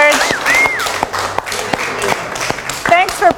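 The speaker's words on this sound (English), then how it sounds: "a very big round of applause for Zombie" Audience applause for a costumed zombie model at a Halloween photo shoot, a burst of clapping mixed with cheering and a few voices calling out over it.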